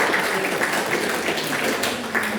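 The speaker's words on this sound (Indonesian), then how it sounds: "Udah tepuk tangan untuk kita, udah mau mendengarkan." Listeners at a lecture on elderly patient care applaud the speakers, producing a continuous, even rush of clapping hands with no standout beats or voices.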